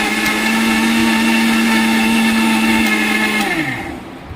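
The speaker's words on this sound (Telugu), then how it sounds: "చల్లారిన తర్వాత మిక్సీ పట్టుకోవాలండి" A kitchen mixer grinder whirs steadily, grinding fried urad dal and rice into powder. The loud motor drone holds for several seconds, then winds down and fades out.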